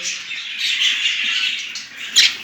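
Budgerigars in a home breeding setup chatter with continuous high, buzzy warbling and chirps at close range, ending in a sharper squawk.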